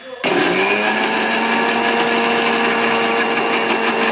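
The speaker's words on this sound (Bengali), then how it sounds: "মিক্সিতে একটু পেস্ট করে দিলাম সর্ষে, পোস্ত, টমেটো, একটু কাঁচা লঙ্কা দিয়ে দিয়ে দিলাম" A mixer grinder starts abruptly and whirs loud and steady, blending mustard seeds, poppy seeds, tomato and green chilli into a paste with a high motor whine throughout.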